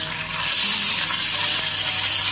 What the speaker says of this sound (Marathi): आलं आणि लसूण याला छानपैकी या तेलावरती परतून द्यायचं आहे